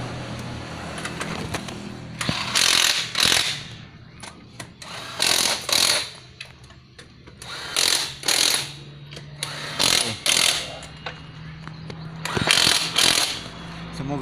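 Honda Scoopy scooter idling at low RPM with a recurring crackling, buzzing rattle that comes in bursts every couple of seconds over the steady engine hum.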